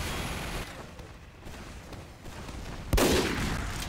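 Gunfire crackles in a Team Fortress 2 match, with a dense rattle of shots over game noise, then a loud, sudden burst near the end.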